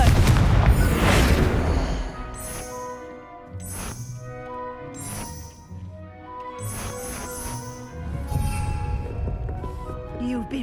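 Confringo blasting spells detonate in Hogwarts Legacy, a run of booming explosions at irregular intervals with a heavy first blast, accompanied by talk.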